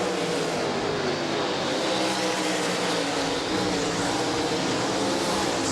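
World of Outlaws sprint cars roar at the Kings Royal, a loud, continuous engine blare from a close pack running at full throttle, with no let-up across the stretch.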